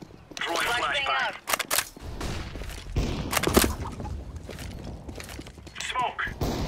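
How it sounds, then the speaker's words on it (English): A flashbang grenade going off in a competitive Counter-Strike: Global Offensive match on the Inferno map, loud sharp bursts and gunfire-like cracks in quick clusters, with voices sounding between them. "Flashbang out. Throwing flashbang."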